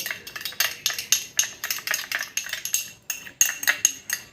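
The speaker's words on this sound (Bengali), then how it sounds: "লেবুর রসের সাথে কিন্তু মিশিয়ে নিয়েছি" A spoon clinks rhythmically against a small bowl while stirring melted Vaseline into lemon juice, a quick close series of light metallic taps that pause briefly midway.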